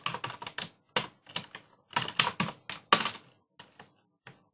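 Fingers tap out keyboard shortcuts on a computer keyboard in quick bursts of crisp, close clicks, with short pauses between clusters of keystrokes.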